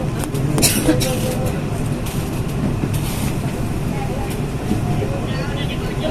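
A train rolls past near Universitas Indonesia station in Depok, West Java, a loud continuous rumble with rattling clacks, while people talk over it.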